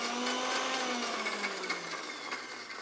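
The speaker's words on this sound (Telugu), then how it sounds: "వాటర్తో కొంచెం ఇలా పెట్టి మిక్సీ చేస్తా" A mixer grinder whirs at high speed grinding with water, a steady motor whine with a slightly dropping pitch and a rough, grinding texture underneath.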